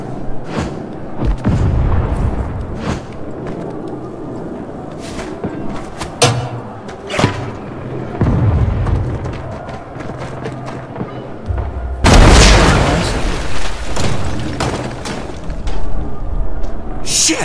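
Rocket explosion in the video game Saints Row: heavy booms and thuds scattered through the scene, with a large loud blast near the end followed by rumbling debris, alongside game voices.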